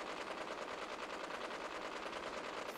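Rapid automatic gunfire from Fallout 4 rattles on without a break, a dense, fairly loud burst that fills the whole moment with no voices.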